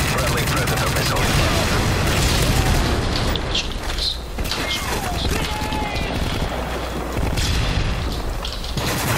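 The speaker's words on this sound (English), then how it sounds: "Friendly predator missile." A predator missile explodes in Call of Duty Modern Warfare 3 amid a loud, continuous din of gunfire and booming blasts with no break.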